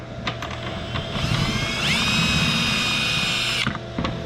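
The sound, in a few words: power drill drilling bolt hole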